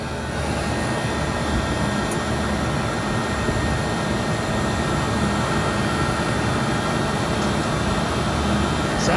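A 40-ton glycol chiller pumping down, giving a loud, steady broadband roar and hum that holds without a break, with no talk over it.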